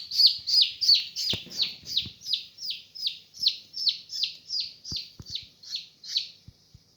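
Chicks peeping in a steady run of high, repeated chirps, about two per second, close and loud while being held to have a leg tied, with a few soft handling knocks underneath.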